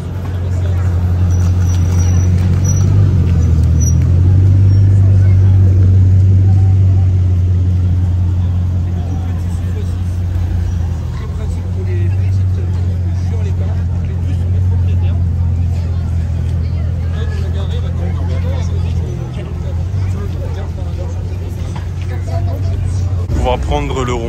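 Sunday evening car traffic in Juan-les-Pins, a loud steady engine rumble with the drone of passing vehicles, heard under talking.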